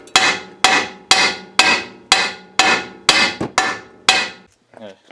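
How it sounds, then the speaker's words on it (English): A hammer strikes the control arm of a 1998 Subaru Outback during ball joint replacement: eight loud, evenly spaced metallic blows ringing close by, then a brief creak. "Now we just need the hammer"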